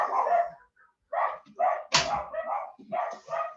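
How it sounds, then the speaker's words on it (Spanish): A dog barks in a series of short, loud yips and barks close by, with brief pauses between bursts, heard alone indoors. "No creo, porque se está ladrando ahí."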